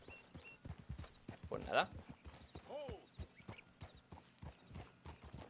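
Horse hooves clip-clop steadily in the open-world Western game Red Dead Redemption 2, with a brief whinny partway through, all under ongoing conversation.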